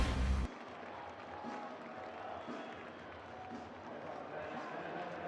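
A baseball stadium crowd applauds pitcher Sean Burke after his 100th pitch at a White Sox game against the Twins, giving a broad, steady wash of clapping and cheering that holds at an even level throughout.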